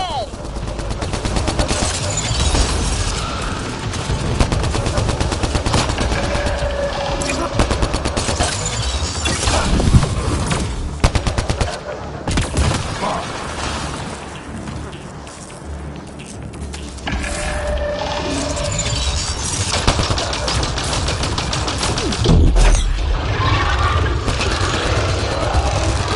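Gunfire in the shooter game Mass Effect Andromeda: dense, sustained bursts of rapid automatic shots and sharp impacts, loud and close, with voices breaking in at times.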